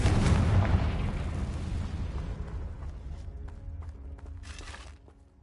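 Explosive spells blast in the Hogwarts Legacy video game, a heavy booming burst at the start that rolls off into a long rumbling decay, with a few lighter crackles and chimes as it fades out.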